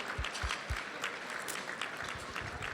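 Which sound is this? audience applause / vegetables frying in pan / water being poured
audience applause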